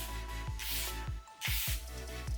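Charlotte Tilbury Airbrush Flawless setting spray is misted in a few quick bursts, soft airy hisses close to the microphone with brief pauses between.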